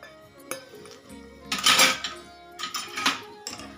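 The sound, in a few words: stirring cashews, almonds, raisins and banana into sheera in pan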